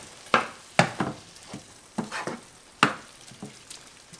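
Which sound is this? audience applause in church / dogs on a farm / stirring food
stirring food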